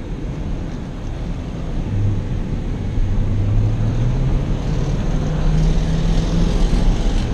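Ford F-150 pickup truck engine running as it drives, a steady low rumble that rises slightly in pitch partway through, with wind noise and no talk.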